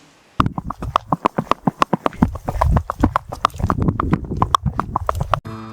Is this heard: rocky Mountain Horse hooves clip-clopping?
yes